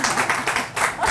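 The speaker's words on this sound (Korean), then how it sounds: "박수가 나오네. 지금 박수가 나와 광고에." A short burst of applause, hands clapping in a quick patter with no voices over it.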